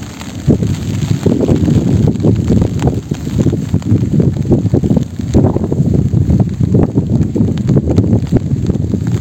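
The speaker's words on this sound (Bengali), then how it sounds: "বাতাস শুরু হয়ে গেছে তো।" Strong wind blows across an open village field ahead of a storm, buffeting the microphone with loud continuous rushing gusts that swell and ease over several seconds, with rustling underneath.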